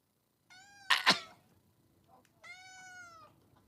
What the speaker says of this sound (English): shut your cat up